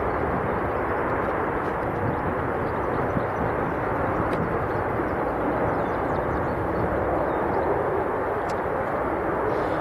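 A Jet2 airliner from Tenerife South at Leeds Bradford Airport produces a broad, steady jet roar that holds even and fairly loud at a distance for the whole stretch.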